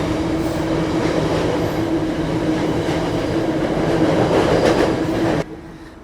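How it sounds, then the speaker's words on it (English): A train rolls past near a biking trail along the Potomac at dusk, a loud, steady rumble with rhythmic wheel clatter that holds for several seconds before cutting off abruptly. "Now there's a train."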